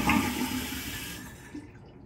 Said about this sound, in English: So it'll go through its flush.